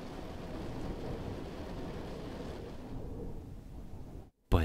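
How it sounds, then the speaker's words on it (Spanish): A low, distant rumble of thunder rolls on steadily, fading toward the end before a brief cutoff and a sudden louder jolt. "Sí, y en mi habitación se oyen más los truenos."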